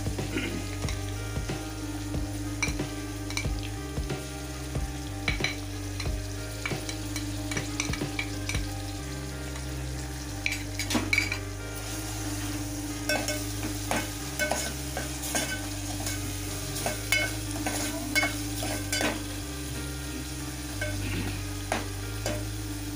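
Ginger garlic paste and dal fry in a pan, a continuous close sizzle broken by frequent scraping and clattering strokes of a spoon stirring, with a low hum underneath and no talk.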